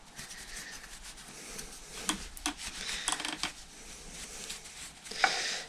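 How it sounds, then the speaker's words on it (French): Cloth wiping and rubbing over the brake caliper of a Kaabo Mantis GT 60V 2000W electric scooter during hydraulic brake bleeding, close soft scrubbing strokes with a few sharper scrapes, fairly quiet and without speech. "on essuie bien tout, on vérifie, on en profite pour nettoyer"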